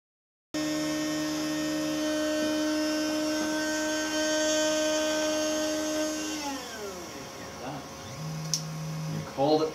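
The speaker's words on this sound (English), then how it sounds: "start the drill again." A micromill drill samples fish otoliths with a constant thin electric whine over a low hum. Its pitch sweeps downward partway through as the drill winds down. It then starts up again briefly near the end.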